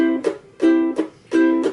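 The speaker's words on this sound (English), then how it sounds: "when you're doing a muted strum, which sounds like this" Ukulele played with a muted strum, strings damped by the fretting hand, giving three short choked chords in an even rhythm, each with a percussive scratchy attack and quick decay, close and clear with no voices.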